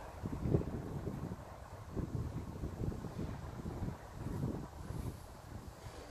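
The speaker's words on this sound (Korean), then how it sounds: "선선한 바람이 불어옵니다" A cool outdoor breeze buffets the microphone in steady, rumbling gusts at a hillside battlefield memorial near a highway, with no voices.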